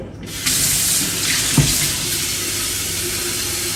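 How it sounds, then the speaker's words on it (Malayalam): Tap water runs steadily into a kettle in a home kitchen during roast chicken dinner preparation. The stream is loud and close, starting abruptly and holding a continuous rush to the end, with no talking. "അപ്പൊ ഈ കെറ്റില് കുറച്ച് വെള്ളമാക്കിയിട്ട് ഇതിൽ തിളപ്പിക്കാൻ വെക്കാം."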